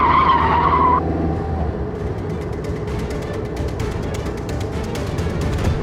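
A car swerves sharply as it turns around, its tires squealing loudly for about a second before the sound settles into a steady engine rumble and road noise.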